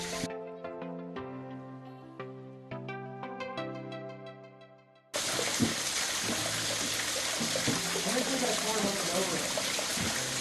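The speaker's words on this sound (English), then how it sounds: "So I made it down here to the bottom of this waterfall." A small waterfall in the Wichita Mountains of Oklahoma pours into a pool. After a stretch of music, it breaks in as a loud, close, continuous rushing roar.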